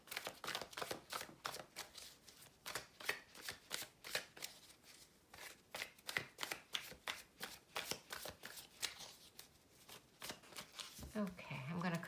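Tarot cards are shuffled by hand in a rapid, rhythmic run of crisp riffles and slaps, close and steady, with a brief rustle near the end.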